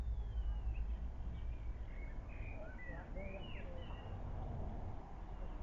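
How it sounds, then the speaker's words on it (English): A blackbird sings in a back garden, a series of short whistled phrases heard fairly faintly over a steady low background rumble. "There's a bit of background noise in there as well as the blackbird."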